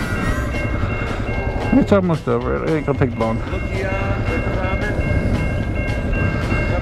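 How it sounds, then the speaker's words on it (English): A train rumbles past with a steady rolling roar, while a person talks briefly over the noise. "You get to see a choo-choo train in the early morning."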